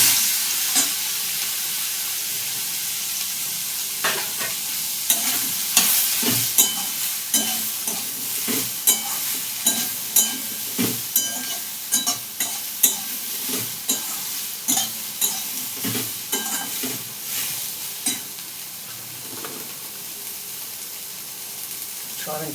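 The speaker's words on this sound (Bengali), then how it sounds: "সোয়াবিনটা একটু ভেজে নিলে ভালো হয় আর কি।" Soybean chunks frying in a pan for a papaya, soybean and potato curry, with a steady close sizzle punctuated by frequent sharp scraping stirs of a spatula, over a low background.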